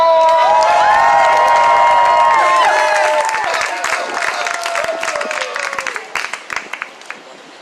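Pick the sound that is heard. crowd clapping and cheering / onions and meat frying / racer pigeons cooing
crowd clapping and cheering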